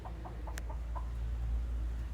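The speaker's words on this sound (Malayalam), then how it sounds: "ഇവിടെ കുറച്ച് കോഴികളുണ്ട് ചെറിയ ഫാം പോലെ സെറ്റ് ചെയ്തേക്കുവാണ്" Domestic chickens on a small home farm cluck softly in a few short, faint calls over a steady low background hum.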